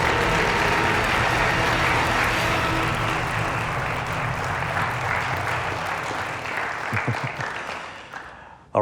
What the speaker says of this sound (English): let's give Tasha a big round of applause for volunteering